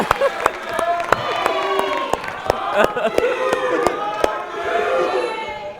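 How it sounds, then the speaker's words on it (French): An audience at a live comedy show applauds with scattered sharp claps over loud crowd cheering and shouting voices. "Il faut les applaudir, s'il vous plaît."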